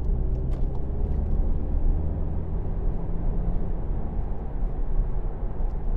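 A 2016 Volkswagen Golf GTD with a 2.0 TDI diesel engine and DSG gearbox cruises along, giving a steady low engine and road rumble that holds even throughout, with no talking.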